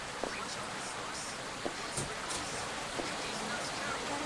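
Rain in the Sakura School Simulator game, a faint, steady hiss of falling rain with a few soft scattered clicks, quiet and continuous.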